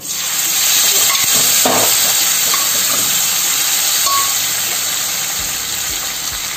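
Boiled vegetables and tamarind broth hit hot tempering in a pan for sweet corn dappalam, giving a loud continuous sizzle and hiss with occasional stirring clinks.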